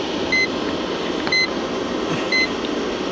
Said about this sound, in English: The little beeping you hear is the kilowatt meter.